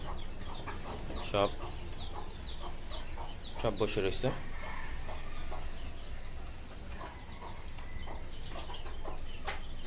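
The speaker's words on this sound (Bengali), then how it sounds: "এই যে আমার মুরগিগুলো" Domestic chickens clucking in an aviary as they wait to be fed, with several overlapping clucks and short calls bursting out near the start and middle over a steady background, while someone talks.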